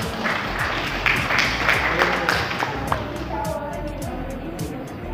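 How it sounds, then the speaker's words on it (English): An audience at a hospital diabetes awareness week event claps for a specialist doctor, with a steady patter of applause and a voice speaking over it. "our specialist, Dr. Glenn Edward Opus, a round of applause"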